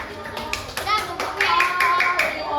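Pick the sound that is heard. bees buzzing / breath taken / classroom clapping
classroom clapping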